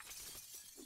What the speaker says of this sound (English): Who's breaking glass?